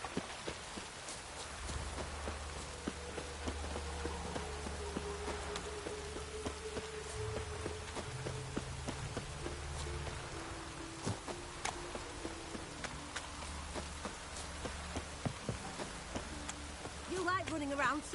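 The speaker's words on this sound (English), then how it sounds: "Witches have conjured rain." Steady patter of rain with scattered sharp drips and taps throughout, over a low droning hum and faint tonal background.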